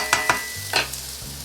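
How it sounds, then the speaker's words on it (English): Vegetables stir-frying in a pan for a Chinese eggplant dish, a continuous close sizzle broken by a few brisk scraping stirs of the utensil, with no talk. "We're gonna cook the vegetable for a minute or so."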